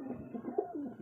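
A pigeon gives a brief, soft coo, close by and faint, in a pigeon loft.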